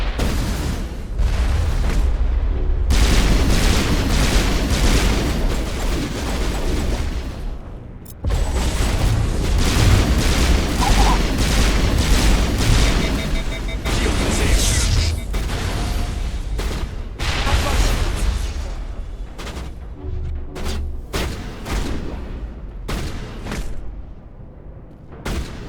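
Grenade explosions and gunfire in Mass Effect 1 combat, a dense run of loud booms and rapid bursts with short pauses, some voices shouting under the noise.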